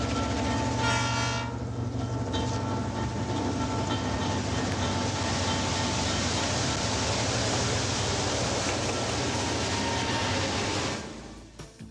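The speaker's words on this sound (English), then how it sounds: "Backing the train up for another run." A train backing up along the rails rumbles steadily for several seconds, a loud continuous low roar with faint clatter, fading out at the end.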